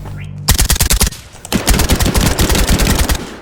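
Automatic gunfire in the video game Last Man Standing: a quick string of about eight sharp, loud shots, a short pause, then a longer sustained burst of rapid fire, close and dominant.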